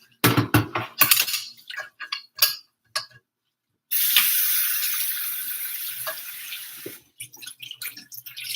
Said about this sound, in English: Just dump the water out of it.